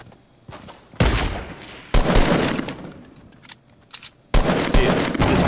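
Assault rifle fire in Fortnite, three loud bursts of rapid automatic shots separated by quieter gaps with a few short scattered pops, close and punchy.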